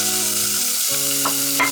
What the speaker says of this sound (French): Vous faites revenir le poulet à la poêle avec un peu d'huile.